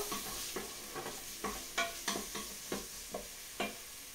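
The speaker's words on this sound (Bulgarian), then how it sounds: "Разбърквам си лука." Onions with chili fry in a pot and are stirred with a spoon, giving a steady rhythm of soft scrapes and taps over a constant quiet sizzle. The sound is close-up and fairly faint, and there is no talking.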